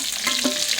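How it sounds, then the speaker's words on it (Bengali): Fish frying crisp in hot oil in a pan, a brief close burst of steady sizzling and crackle. "মাছগুলো খুদে ভাতের সাথে খাবে তো, ওই জন্য আমি কড়া করে ভেজে নিচ্ছি"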